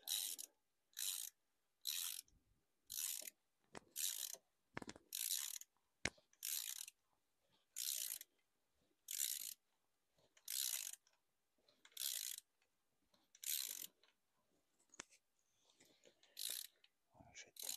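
A ratchet wrench tightens bolts on a Peugeot 207 HDi diesel engine with about 530,000 km and a breakdown. Repeated short bursts of crisp metallic clicking alternate with brief pauses in a steady rhythm, close by.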